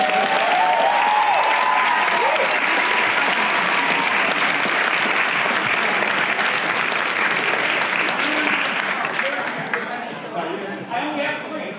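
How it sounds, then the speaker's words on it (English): Loud, sustained applause from a theatre audience fills the whole stretch, steady and dense before easing slightly near the end, with a few voices audible in the crowd. "can I get a round of applause?"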